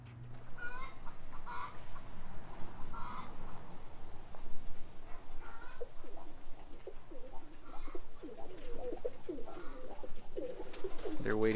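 A flock of roller pigeons waiting for feed keeps up soft, continuous cooing and murmuring, with scattered fluttering and shuffling, fairly faint and close throughout.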